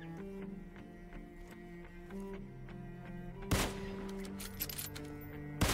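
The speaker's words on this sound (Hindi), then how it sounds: "जैसे हम मेडिसिन से बाहर आते भाई फायरिंग की साउंड लग जाती है।" Gunfire in the mobile battle-royale game BGMI, several sharp broadband shots cutting in over steady in-game music and ambience, the loudest burst midway and another at the end.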